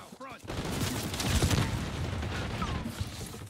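Rapid bursts of gunfire from enemies pre-firing in an online shooter on the Skyline map, a dense fusillade of shots running nearly continuously and fairly loud throughout, with a voice talking over it.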